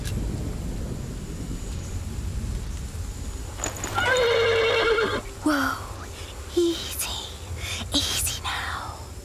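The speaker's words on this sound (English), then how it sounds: "The horse nearly woke the guard." A horse in the video game Pillars of the Earth whinnies loudly and close for about two seconds, followed by a few short snorts and clicks over a low rumbling ambience.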